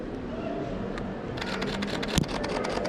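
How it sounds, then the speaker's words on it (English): A rapid burst of Canon R6 camera shutter clicks begins partway through over steady street background noise in Vienna, with one sharper click near the end. "let you guys hear the shutter"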